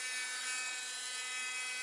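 A steady high-pitched power drill whine runs continuously while drilling a pilot hole, close by and fairly quiet, with no voices.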